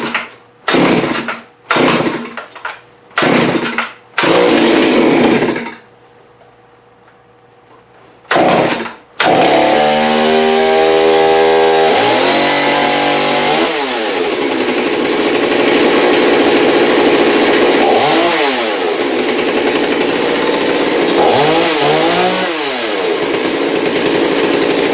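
FarmerTec Holzfforma G388 chainsaw, an MS380 clone, first gives several short loud pull-start bursts, a pause, then catches and runs at a loud steady idle with repeated revving swells.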